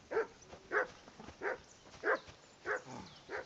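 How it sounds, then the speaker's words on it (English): A dog barks in the Kingdom Come Deliverance 2 video game, six evenly spaced barks ringing out at a steady rhythm, moderately loud over a quiet background. "I assume you can hear that damn dog of yours barking."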